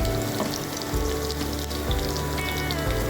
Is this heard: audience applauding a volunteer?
no